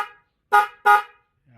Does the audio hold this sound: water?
no